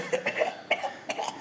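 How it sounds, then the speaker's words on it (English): Several quick, harsh coughs come close together from one person, a sharp nearby burst with brief gaps between hacks and no talking. "Why are you coughing?"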